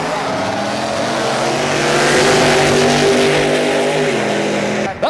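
Little Red Wagon wheelie truck at a drag strip during a truck show in Martin, Michigan, its engine roaring loud and steady for about five seconds, climbing slightly in the middle before cutting off abruptly near the end.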